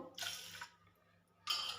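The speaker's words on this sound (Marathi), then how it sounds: "पाणी घालून घेऊया" Water pours into a pot in two separate bursts, one early and one near the end, with a quieter gap between them. It is measured out bowl by bowl for rasam rice.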